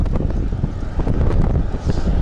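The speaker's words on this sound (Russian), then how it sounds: "будет все-таки такой ветер встречный сильный" Strong spring headwind roars and buffets across the microphone of a rider on an Outleap Hardway S 2022 bicycle, a loud, steady low rumble with gusty surges and no voices.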